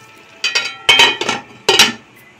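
A metal lid set onto a cooking pot of aloo baingan, three close, bright clanks in quick succession, each ringing briefly before fading, with no talk.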